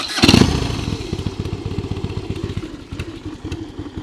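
An older, pre-1960 carbureted motorcycle engine runs close by, its uneven, lively thumping beat steady after a brief louder burst at the start.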